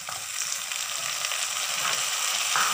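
Tomatoes go into a pan of hot oil for a fish gravy, giving a steady close sizzle with occasional stirring clicks and a brief flare near the end.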